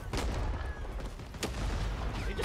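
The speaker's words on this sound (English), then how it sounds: "They just throw grenades all over us." Grenade explosions and gunfire in the Vietnam War shooter Rising Storm 2: Vietnam, a dense, loud barrage of booming blasts and cracking shots packed into a couple of seconds with no pause.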